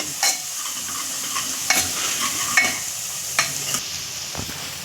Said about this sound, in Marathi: लसणाचा म्हणजे ना कच्चा वास जाईपर्यंत हे मस्त असं परतून घ्यायचं